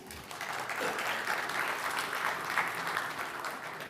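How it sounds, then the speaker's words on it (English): A crowd at the Ghana UK Investment Summit 2026 gives a steady, moderately loud round of applause, an even wash of many hands clapping together for the whole stretch with no voices standing out. "Round of applause, please."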